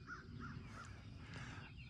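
Several crows caw at a distance over a farm field in spring, harsh repeated calls spaced through a steady outdoor wind and ambient hiss.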